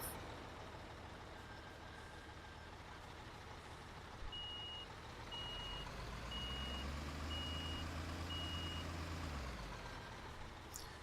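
A heavy dump truck in Construction Simulator 15 hauls a load of dirt with a deep, steady engine drone and a rising rev, while a backup alarm beeps in an evenly spaced series partway through.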